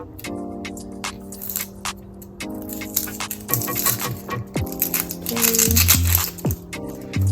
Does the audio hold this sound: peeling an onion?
yes